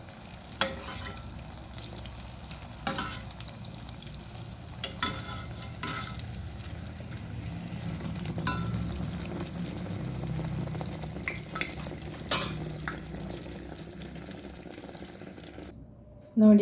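Neyyappa, sweet rice-flour fritters, sizzle steadily in hot oil for a long stretch, with occasional clinks and scrapes of a utensil stirring, and no voices.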